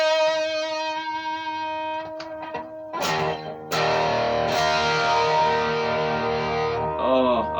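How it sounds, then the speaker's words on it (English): Electric guitar notes and chords ring out through a washy effect, the tones sustaining and blending with a spacious, lingering tail. "sure that reverb sounds nice there on YouTube"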